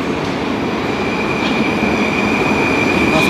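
Moscow metro train, a rare vintage set on a parade-of-trains run, rolling along the line with a steady loud rumble and a sustained high wheel whine throughout, no voices.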